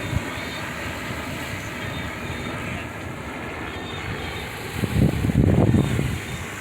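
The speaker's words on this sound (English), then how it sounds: "You can see the helicopter in the background." A tour helicopter flies nearby, giving a steady engine and rotor drone that swells louder for a moment toward the end, with no talk.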